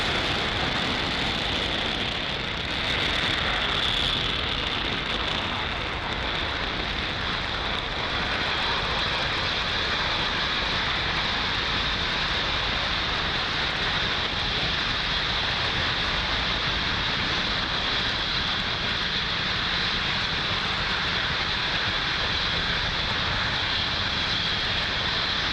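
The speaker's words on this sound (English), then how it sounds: "Falcon 9 has successfully lifted off from Pad 40 at Cape Canaveral" A SpaceX Falcon 9 rocket lifts off from Pad 40 at Cape Canaveral on a OneWeb mission, producing a sustained, heavy, roaring rumble that stays steady and dense for over twenty-five seconds, heard from a distance with no speech.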